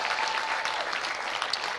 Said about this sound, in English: Can we give a big round of applause to the 2023 finalists and the winners of the National Inter-College Competition?